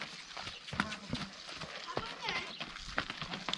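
A mare's hooves clip-clop at a vaquejada track, light irregular taps close by beneath steady people talking and background crowd noise.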